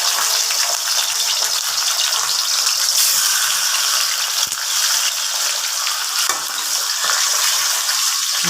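Loud, steady sizzling and crackling of food frying in hot oil, close up and continuous, with a few faint clinks from the pan.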